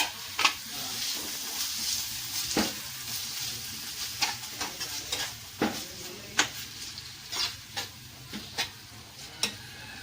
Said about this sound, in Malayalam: അതിലേക്ക് നമുക്ക് സവാള, അരിഞ്ഞു വെച്ച സവാള നല്ല വഴറ്റണം